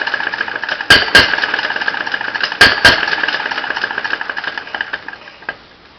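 An open crank engine, troublesome until warmed up, runs steadily with extra choke, a continuous mid-pitched mechanical drone with two pairs of sharp, loud knocks early and midway, then fading near the end; no talking.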